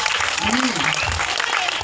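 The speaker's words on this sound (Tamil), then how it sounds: "ஒரு பலத்த கைத்தட்டல கொடுங்க" Applause from an audience at a Tamil spiritual talk, a short dense patter of clapping mixed with a speaking voice.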